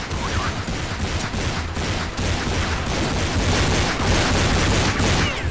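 Dense, sustained gunfire fills a rainy Counter Strike match, loud rattling shots and booms packed tightly together without pause, with no voices over it.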